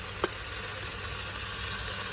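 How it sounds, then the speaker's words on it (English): Tomatoes fry in a pan for a vegetarian methi kapnya pasta, a soft steady sizzle with faint crackles and a light clink, heard close and quiet with no talking. "I'm gonna add in the tomatoes."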